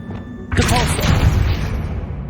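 A force spell cast in Hogwarts Legacy: after a moment of low rumble, a sudden loud whooshing blast bursts in and rolls on as a sustained, roaring tail.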